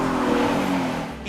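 A car at a drift school in Texas holds a loud, strained engine note during a drifting pass, the revs steady and close for a brief moment before easing off.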